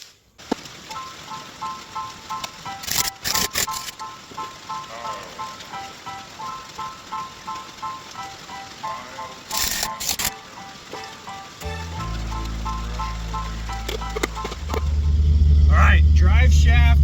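A 1959 GMC pickup truck engine fired up after driveshaft installation, idling steadily with a low rumble that grows louder and heavier toward the end, under bursts of noise.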